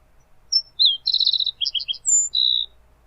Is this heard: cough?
no